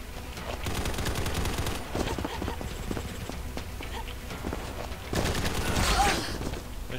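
Gunfire in the shooter game Combat Master: sustained automatic bursts and rapid shots, loud and dense, broken by short pauses and a final heavy volley, with no voices.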